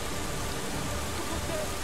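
Steady, dense rain in Steins;Gate 0 by a dried-up riverbed, a loud continuous hiss with no breaks, heard alone with no voice over it.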